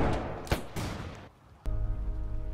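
Gunfire in the Roblox game Trenches, with several sharp shots and bursts in the first second followed by a short lull, then a loud crack and a sustained rumbling stretch of battle noise.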